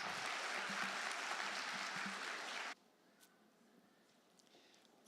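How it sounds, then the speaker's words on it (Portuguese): A church congregation claps for Jesus during a sermon by Pastor João Brito. Dense, even applause runs for under three seconds, then cuts off abruptly into near silence. "Você pode aplaudir Jesus aí mais uma vez?"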